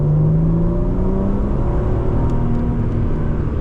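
A 2005 Chrysler Crossfire SRT-6 accelerates hard, its engine note climbing smoothly and steadily in pitch as the revs rise, heard loud and close from inside the cabin.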